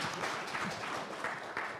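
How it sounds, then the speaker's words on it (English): Audience clapping at a Kenya open finance industry workshop, a soft steady patter of many hands, fairly quiet and distant in the room. "Maybe we can clap for our board member."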